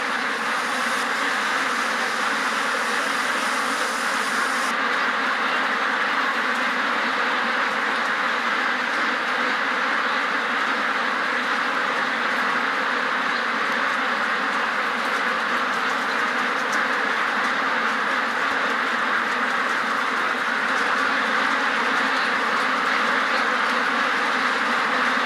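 Ducks packed inside an intensive UK duck-farm shed make a dense, continuous wall of quacking and chatter, a steady loud din that runs throughout without pause or voices.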